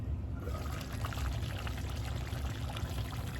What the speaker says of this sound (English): I'm going to go ahead and add a cup of water